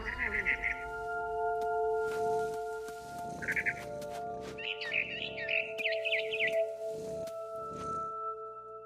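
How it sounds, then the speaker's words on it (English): Barn swallow chirping in What Remains of Edith Finch: short bursts of bright twittering calls recurring over a steady tonal game ambience with soft rhythmic thumps. "Then I heard chirping outside my window. It was a barn swallow going back to her nest."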